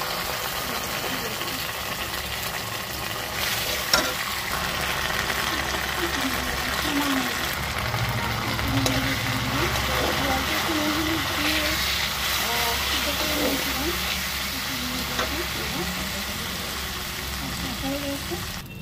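Ginger and a whole tomato frying in a pan with onions and fried fish for a taro-potato fish curry, giving a steady, close sizzle that runs throughout beneath a speaking voice.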